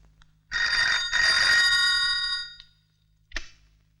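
A telephone bell rings, a bright electric trill in two close bursts lasting about two seconds, followed by a short single ding, loud and near against a quiet background.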